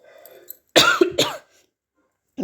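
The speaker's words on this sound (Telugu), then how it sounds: "జలుబు చేసి బాగా దగ్గు వస్తుంది" Two sharp, close coughs in quick succession, loud against an otherwise quiet background, followed by silence.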